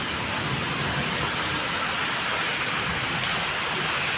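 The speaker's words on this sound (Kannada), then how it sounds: "ಮಳೆ ನೋಡ್ರಿ ಫ್ರೆಂಡ್ಸ್ ಎಷ್ಟು ಬರಾಕತ್ತೈತಿ ನೋಡ್ರಿ." Heavy rain pours steadily during a night thunderstorm with lightning, a dense, even hiss filling the whole stretch without pause or voices.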